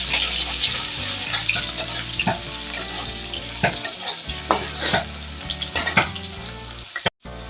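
Potatoes fry in a pan with a bright, continuous sizzle while a spatula stirs and scrapes them in frequent irregular strokes, loud and close, ending in a brief abrupt cutout.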